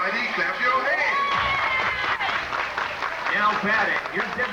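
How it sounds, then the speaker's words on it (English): Stadium crowd clapping at a York Revolution minor-league baseball game, a steady wash of claps and crowd noise with tonal sounds running through it, holding at an even level for about four and a half seconds. "Everybody clap your hands."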